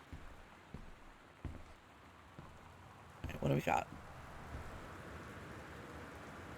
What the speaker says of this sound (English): it is pouring rain out